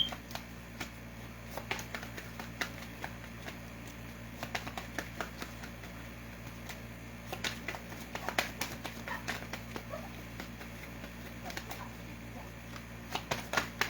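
Tarot cards are shuffled in a quiet room during a reading, giving faint, scattered riffling clicks over a low background hum.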